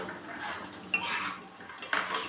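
Puffed rice tossed with fried onion and chopped green chili in a pan, soft rustling with light metallic scrapes and a couple of spoon clinks against the pan, quiet and close, with no voices.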